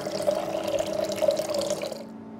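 Water is poured steadily to top up a one-liter container when mixing coffee brew water, a continuous bright splashing stream that cuts off abruptly near the end.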